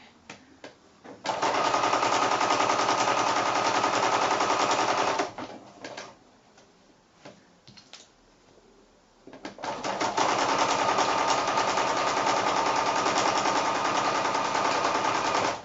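A sewing machine stitches quilt-as-you-go blocks together at a quarter-inch seam, running in a loud, steady rapid rattle for several seconds, pausing briefly with small handling clicks, then running steadily again.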